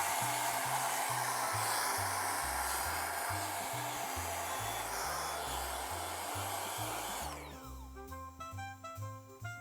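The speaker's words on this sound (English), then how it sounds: "So the board itself is pretty clean, just a little bit of dust, so I'll just vacuum it up a little bit." A vacuum cleaner runs close and loud, cleaning light dust off a PS1 circuit board in a steady airy whoosh before it cuts out, while music plays underneath.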